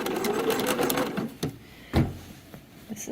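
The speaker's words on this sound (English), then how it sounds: "I'm going to stitch right in the ditch all along here and do the whole hemline" A sewing machine stitching in the ditch along a shirt hemline, a fast rattling run of stitches followed by short separate clunks and thumps as the fabric is moved, close and alone.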